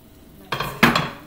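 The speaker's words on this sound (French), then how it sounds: "on va ajouter les courgettes" Zucchini tipped into a simmering pot of minestrone soup: two bursts of clattering and stirring, the second louder, with no talking.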